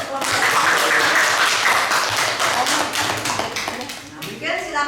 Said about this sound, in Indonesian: Kasih tepuk tangan untuk kelompok.